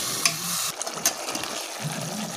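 Yogurt-marinated chicken masala being stirred and sautéed in a pan, a soft sizzle with scraping spoon strokes and a few sharp clinks, close but quiet.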